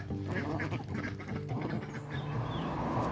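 Several free-roaming ducks in a woodland garden quack continuously over a busy, noisy background, overlapping calls coming from close by.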